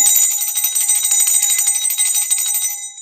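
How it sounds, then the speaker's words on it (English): A hand-held freedom bell rung close by, a bright sustained metallic ringing with rapid repeated strikes that carries on for a few seconds before it starts to fade, with no talking over it. "I'm gonna ring this for you."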